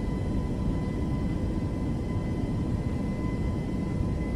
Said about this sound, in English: I'm just going to accelerate quickly the plane